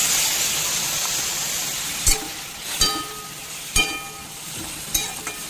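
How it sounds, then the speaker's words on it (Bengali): Mixed vegetables frying with spices in a pan give a steady sizzle as a splash of water goes in, followed by several sharp scraping stirs spaced about a second apart, close and fairly loud, with no talking. "মশলাগুলো যাতে পুড়ে না যায়, সেজন্য সামান্য একটু জল এখানে অ্যাড করছি।"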